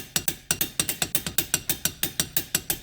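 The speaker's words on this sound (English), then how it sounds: "So I'm going to go and torque mine to 80 foot-pounds." A torque wrench ratchets while tightening lug nuts on a 2006 Subaru Forester wheel, a close, steady series of crisp clicks at a quick, even rhythm, about six per second, with no talking.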